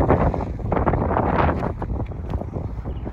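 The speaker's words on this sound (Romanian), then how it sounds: "Bate vântul un pic, dacă se aude." Loud wind buffeting a microphone in rumbling, uneven gusts that fade slightly toward the end, under a clear sky in Chicago, with no one speaking.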